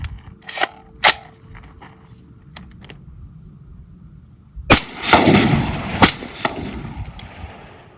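AR rifle firing 80-grain Federal ammunition with a heavy buffer spring, a few sharp loud shots spaced apart, then a burst of closer rapid reports with ringing echoes outdoors.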